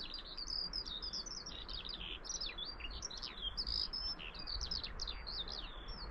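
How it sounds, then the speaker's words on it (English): A skylark sings on the Purbeck coast in a long, continuous warbling stream of high chirps and trills. It sounds fairly distant against soft wind and outdoor ambience. "And there's another skylark serenading us."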